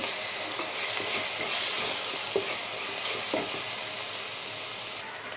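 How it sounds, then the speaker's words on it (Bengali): Turmeric, chili and coriander powder frying in a pan for a lentil and pointed gourd dish, a steady close sizzle with a few soft stirring scrapes, no talking. "হলুদের গুঁড়ো দিয়ে দেবো হাফ চামচ পরিমাণে মরিচের গুঁড়া এক চামচ পরিমাণে ধনিয়ার গুঁড়া এক চামচ পরিমাণে দিয়ে এখন ভালো করে ভাজতে হবে"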